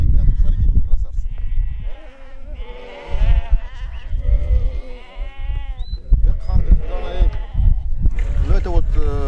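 Lambs of a local breed bleat repeatedly and loudly at close range in a pasture setting, their calls overlapping with someone talking and other flock noise.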